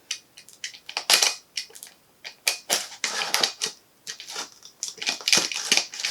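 A blade slices through a cardboard shipping box in a run of sharp, close scraping and tearing bursts with short gaps between strokes.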